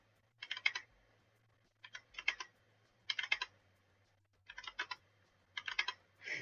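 Quiet keystrokes clatter on a computer keyboard during a game development session, coming in five short clusters of quick taps separated by pauses.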